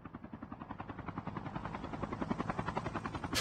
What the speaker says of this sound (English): it looks like Team 4 has a helicopter flying around